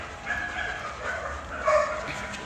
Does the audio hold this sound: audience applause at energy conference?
no